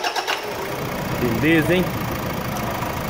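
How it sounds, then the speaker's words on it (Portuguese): A car engine that has just been serviced is cranked and catches, then settles into a steady idle, with someone speaking over the running motor. "Liga de novo. Olha a partida."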